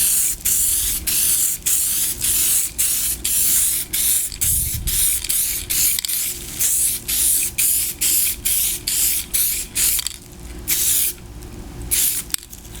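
Aerosol can of leather dye sprays onto a SAAB headrest in a long series of short, loud hissing bursts, each lasting roughly half a second with brief gaps, close to the microphone and steady throughout.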